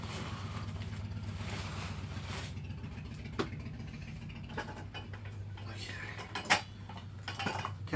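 A lightweight camping cook set of nesting metal pots and pans is handled while packing for a road trip, giving soft, close metallic clinks and clatters over a low background hum, with a few sharper knocks.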